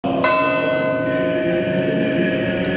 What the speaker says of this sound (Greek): Οι καμπάνες των εκκλησιών χτυπούν πένθυμα καθ' όλη τη διάρκεια της ημέρας.